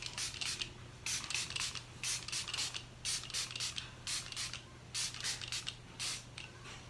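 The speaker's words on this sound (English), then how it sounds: "And it's not a continuous spray, you have to keep pressing it" Short hissing bursts from a pump-action cosmetic foundation spray, pressed again and again in a quick uneven rhythm of about a dozen puffs, close and fairly quiet over a low steady hum.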